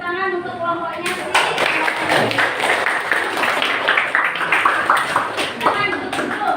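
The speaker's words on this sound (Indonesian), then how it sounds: "mari kita tepuk tangan untuk kelompoknya sih" Classroom applause for a student group after their presentation, a steady wash of clapping from many pupils lasting several seconds, with voices mixed in.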